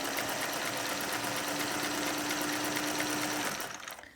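A sewing machine stitches interfacing in place along a garment neckline, running in one steady, loud, continuous whir for about three and a half seconds before stopping.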